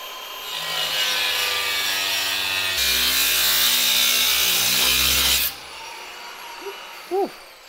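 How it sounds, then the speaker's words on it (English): A small cordless grinder fitted with a cutting disc bites into metal on a Land Rover Discovery tailgate, a loud steady whine for several seconds that shifts pitch midway, then stops, with faint clinks afterward. "We've got a cutting disc on our little cordless grinder."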